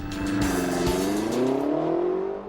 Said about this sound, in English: Once the driver takes his foot off the brake, the car shoots forward as fast as possible.